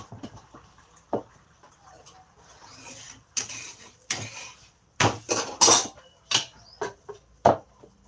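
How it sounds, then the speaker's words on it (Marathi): Metal kitchen dishes are pulled out and handled, with a string of sharp clanks and scraping rubs at an irregular pace, some close and loud, between quieter moments. "तो भांडी काढायला लागला"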